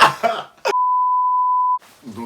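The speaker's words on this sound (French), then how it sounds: "Il va biper, il va mettre un bip," Speech breaks off for a loud, steady censor bleep lasting about a second, then talking resumes.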